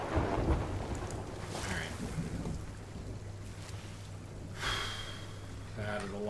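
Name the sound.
thunderstorm with rain at sea, from video game Sea of Thieves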